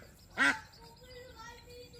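A white duck gives a single short, nasal quack near the start, fairly close and clear, followed by quiet ambient background from a pond where a crocodile lies in wait.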